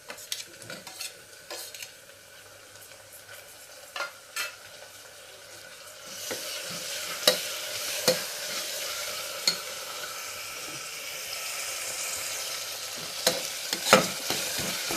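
Spices frying in a pan for dal palak, starting as quiet crackle and growing into a loud steady sizzle, with intermittent scraping clicks of a spatula stirring throughout and no talking.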